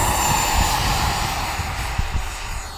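A model airplane engine run at full reverse thrust at a flying field, a loud steady broadband roar that holds throughout with slight fluctuation, no voices.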